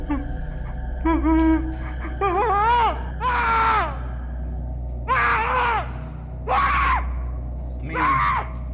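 Repeated screams and wailing yells from a played cryptid horror video, several drawn-out bursts about a second long each separated by short pauses, loud over a steady low hum.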